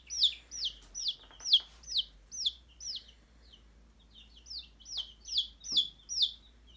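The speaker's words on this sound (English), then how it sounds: "let's look at some of these baby chicks" Baby Rhode Island Red chicks peep in a quick run of high, downward-sliding chirps, then pause briefly before another burst of peeping, moderately close with no speech.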